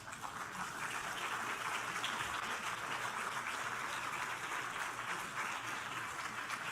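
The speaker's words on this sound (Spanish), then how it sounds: "Den un aplauso al Señor" Church congregation giving a round of applause during a sermon, a continuous, even wash of many hands clapping heard at a moderate distance, with no talk over it.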